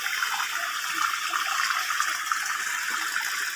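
Steady rushing water pours continuously from a motor pump at close range, a bright broadband gush with no pauses and no voices.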